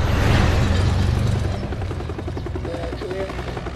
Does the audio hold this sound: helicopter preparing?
yes